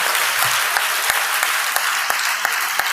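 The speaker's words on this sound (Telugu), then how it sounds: "అందుకని గట్టిగా చప్పట్లు కొట్టి దేవుని మహిమ చెల్లించండి" A church congregation claps loudly during a sermon, a dense, continuous wash of applause with a few sharper individual claps standing out near the listener.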